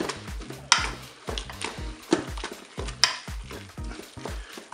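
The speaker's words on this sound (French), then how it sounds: "Allez, on va mélanger tout ça." A spoon stirring salmon spaghetti inside a Cookeo electric pressure cooker, with repeated scraping strokes against the pot in a loose rhythm over a soft sizzle, close and clear.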